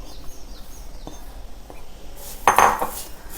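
A metal spoon scrapes and clinks against a dish while stirring roasted spices for metkut, a few light taps, then a louder scraping burst near the end.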